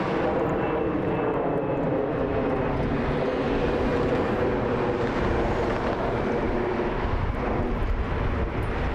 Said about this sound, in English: This is Allegiant Flight 65.